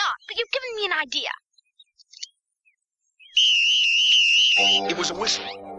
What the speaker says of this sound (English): It was a whistle.